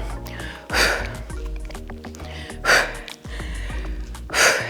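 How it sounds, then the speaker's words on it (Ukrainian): Forceful breathy exhales during a resistance band arm workout, three strong puffs at a steady pace, close and loud, with faint background music beneath. "Видих. Видих. Працюємо."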